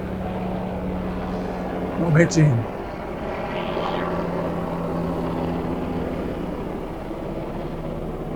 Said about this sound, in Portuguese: o helicóptero passa aqui em cima, bem na minha cabeça